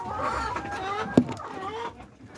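Hens clucking in a chicken coop where eggs are being collected, short soft clucks close by, with one brief sharp sound near the middle.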